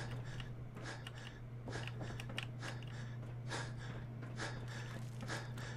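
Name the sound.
heavy breathing in the video game Fallout 4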